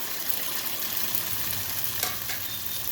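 Snap peas hit a hot pan of chicken and tofu in a stir-fry, giving a steady, loud, dense sizzle throughout with a brief louder crackle and stir near the end, no voices.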